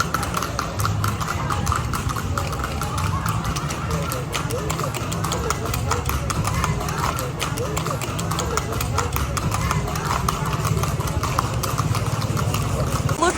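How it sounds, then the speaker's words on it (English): Many horses clip-clop along a town street at night in Santa Fe de Antioquia, Colombia, a steady dense patter of hooves mixed with a running engine and crowd chatter throughout. "hundreds of horses going up and down the street"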